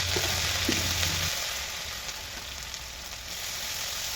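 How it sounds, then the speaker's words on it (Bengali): Ground spice paste sizzling in hot oil gives a dense, even crackling hiss, close and continuous, with a low hum under the first second that fades away. "এদিকে তেলটা গরম হয়ে গেছে এখন দিয়ে দিলাম"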